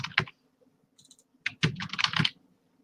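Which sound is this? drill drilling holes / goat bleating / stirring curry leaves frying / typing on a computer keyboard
typing on a computer keyboard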